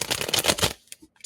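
A deck of tarot cards is riffled briskly for under a second, a dense papery flutter, followed by a few isolated taps and slides as the cards settle.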